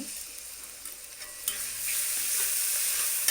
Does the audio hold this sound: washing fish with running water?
no